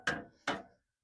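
A hammer knocks twice in quick succession, two sharp, fairly close impacts about half a second apart on a mower being converted into a small mobile cabin, with no voices.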